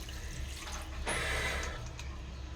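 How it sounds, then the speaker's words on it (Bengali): Water poured into a pan of fried potato, ridge gourd and poppy seed, a brief splashing gush near the middle over a low background hum, fairly close and short. "এবারে প্রত্যেকবারের মতনই জল দিয়ে দিলাম"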